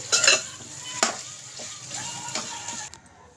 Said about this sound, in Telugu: మధ్య మధ్యలో ఇలా కలుపుకుంటూ ఉండాలి.